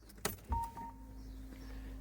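A 2017 Peugeot 3008 with a blocked diesel particulate filter and its engine management light on is switched off, with a sharp key click and a short thump, then a low steady hum that carries on close by.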